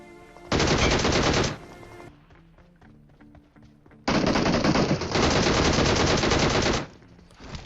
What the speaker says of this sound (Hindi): अब वो फायर करता है